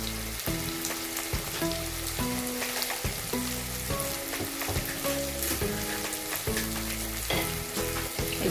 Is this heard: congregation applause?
no